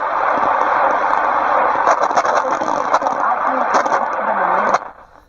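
Constant broadband hiss and static from a Sony EX5MK2 radio receiver, steady and fairly loud with faint crackles and whistling tones mixed in, cutting off sharply near the end.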